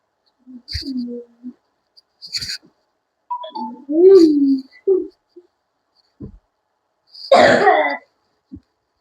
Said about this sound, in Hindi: खांसी खांसी आ गई है